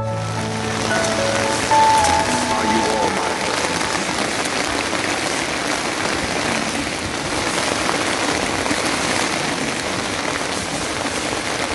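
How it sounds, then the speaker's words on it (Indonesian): Heavy rain falls steadily on a mountain camp during a climb of Mount Sindoro, a dense, loud hiss that continues without a break. "kabut dan hujan turun cukup deras."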